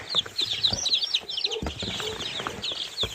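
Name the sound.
hens clucking among chicks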